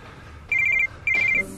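A phone rings with two bright, loud bursts of rapid trilling electronic tones separated by a short pause, over a quiet room background with no talking.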